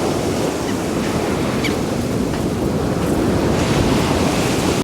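Black Sea waves break on the shore at Chornomorsk in winter, a loud, continuous wash of surf mixed with heavy wind buffeting the microphone, steady throughout with no voices.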